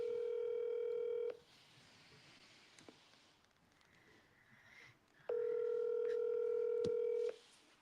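Telephone ringback tone on an outgoing call, two long steady buzzing rings separated by a quiet gap with faint background rustle.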